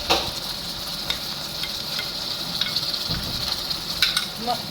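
Yogurt is stirred quickly into frying onion masala, giving a loud, close sizzle with scraping stirring strokes and a few sharp clicks of the spoon against the pan, with no talking.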